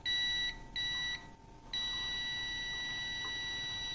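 A multimeter continuity test on an oil pressure switch, one lead on the terminal and the other on body ground, gives loud, steady high-pitched beeping that breaks off briefly twice, then holds as one continuous tone.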